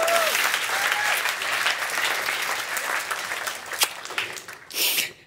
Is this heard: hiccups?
no